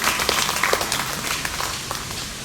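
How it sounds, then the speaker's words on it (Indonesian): Scattered applause from a small audience at a product launch event in Nusa Tenggara Timur, a thin wash of clapping with a few sharper claps standing out, moderately distant and fairly steady for a couple of seconds. "Tepuk tangan dulu."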